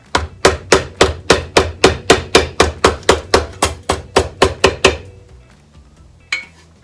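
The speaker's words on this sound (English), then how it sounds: "we'll just make do with a claw hammer" Claw hammer tapping a motorcycle undertray panel on a Honda Hornet cafe racer build, a rapid even series of about twenty sharp metallic knocks, then a pause and one final tap.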